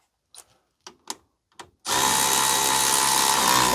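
A few light taps and clicks come first, then a power tool whirs loudly and steadily, close up, as it runs a nut onto the bottom of a Rancho dual steering stabilizer on a Ford Super Duty truck.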